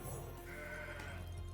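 A single goat bleat sounds from the card game Legends of Runeterra, a short nasal wavering cry over a steady game background hum.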